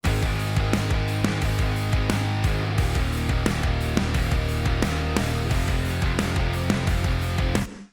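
Heavy distorted pop punk electric guitar riffing through an amp simulator, dense and loud with chugging rhythmic attacks, playing continuously before cutting off at the end.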